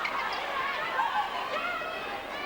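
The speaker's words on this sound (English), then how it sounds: "You hear the crowd's reaction to that call." At a netball match, a crowd murmurs and reacts to a referee's call, a faint, distant hum of many voices with no single clear shout.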